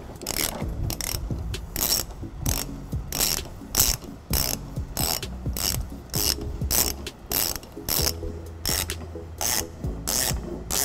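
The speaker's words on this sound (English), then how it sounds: "I'll go ahead and just spin the ratchet" A ratchet spinning out the tow hook bolts on a 2012 Toyota Prius Plug-In makes rapid, close metallic clicking in repeated bursts, with steady rhythmic ratcheting strokes throughout and no talking.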